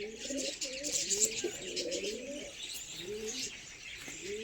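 Pigeons coo in soft, throaty repeated phrases, with chirpy bird calls and a steady hiss of background noise around them.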